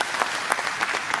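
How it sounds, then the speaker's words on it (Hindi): Brief, dense burst of applause from an audience at the Shoorveer Awards 2018 ceremony, steady crackling handclaps throughout with no break. "आई थिंक आप सबको उनके लिए एक बार जोरदार ताली जरूर बजानी चाहिए"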